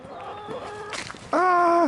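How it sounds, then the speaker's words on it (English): Chickens cluck outdoors near a pine tree, a few short calls building to one loud, drawn-out squawk close by at the end. "Ah, it's chickens!"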